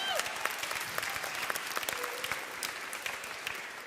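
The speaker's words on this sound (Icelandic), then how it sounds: "Gefum honum gott klapp." A church congregation at a confirmation mass applauds the games leader Arnar Ragnarsson, with brisk, crisp clapping from many hands close by and a murmur of voices underneath.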